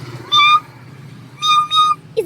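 A house cat meows several times close by, with a short call followed by a pair of longer drawn-out tonal meows, loud and clear over a faint low hum, with no talking.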